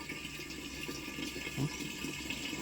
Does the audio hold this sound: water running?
yes